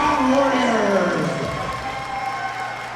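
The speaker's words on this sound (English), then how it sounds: "a big round of applause for both of these professional ROCKTAGON warriors" A crowd cheers and applauds for two professional MMA fighters at a ROCKTAGON event, loud and sustained from the start and fading somewhat, with an announcer's voice carrying over the noise early on.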